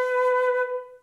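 A full flute plays one B natural note, a single clear sustained tone with bright overtones that starts immediately and tapers off within about a second, close and alone.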